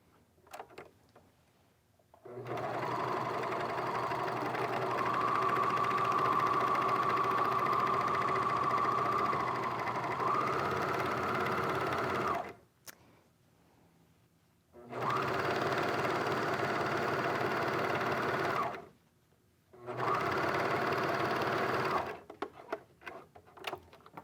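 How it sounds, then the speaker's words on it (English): A serger sewing machine stitches quilt strips through layered fabric and batting, whirring steadily in three separate runs: one long stretch, then two shorter bursts separated by brief quiet pauses. "I flip it to the back put the bottom strip on, and again I go to my serger."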